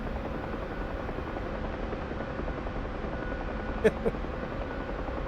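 UH-1H helicopter flying in a flight simulator game while sling loading wreckage, its rotor and engine droning steadily and evenly throughout with a couple of brief clicks near the end.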